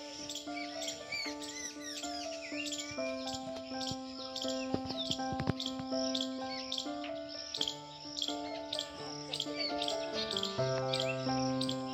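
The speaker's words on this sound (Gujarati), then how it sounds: "પંખીઓનો અવાજ છે મિત્રો" Birds sing on a village morning with repeated chirps and calls layered over a steady insect and cricket drone and a sustained tonal backdrop, moderately faint and without speech.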